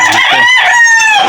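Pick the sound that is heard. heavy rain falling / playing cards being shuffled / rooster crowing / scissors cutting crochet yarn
rooster crowing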